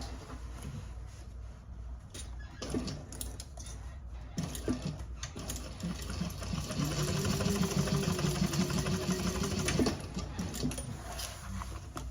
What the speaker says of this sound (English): And then I'll sew.